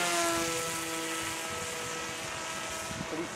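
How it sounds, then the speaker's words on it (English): Bixler 2 RC model airplane on a flight after repairs, its electric motor and propeller giving a steady droning buzz overhead at about half throttle, moderately loud and continuous. "This is actually my first time flying a Bixler."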